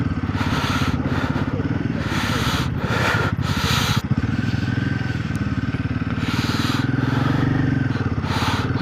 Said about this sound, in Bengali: পিছনে বাইক আসছে।